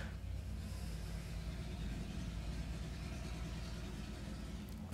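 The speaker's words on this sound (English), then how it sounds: "Can we hear this incredibly loud car in the background?" A loud car engine rumbles steadily in the background, a continuous low drone running through the whole stretch without a clear pass-by peak.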